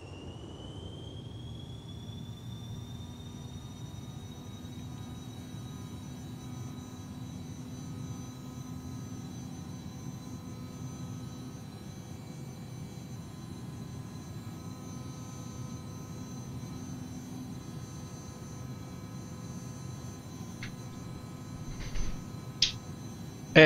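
Cessna Citation CJ4 jet engines in a flight simulator spool up as the throttles advance for climb, a steady continuous whine with a rising high tone over a low broadband roar, with a few brief clicks near the end.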